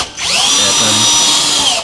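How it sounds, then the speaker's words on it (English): A power drill bores holes in a car's sill to mount side skirts, a loud, close, high-pitched whine that spins up quickly, holds steady for under two seconds, then cuts off. "So we're just drilling the holes to attach the side skirts to the sill."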